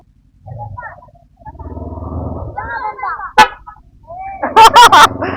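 A car horn honks in several short, loud blasts near the end, following engine rumble and a person talking, on the Bongabon–Baler road between Nueva Ecija and Aurora, Philippines.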